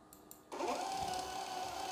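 A POS 58mm thermal receipt printer prints a test, starting abruptly with a steady, even motor whir that carries on quietly to the end.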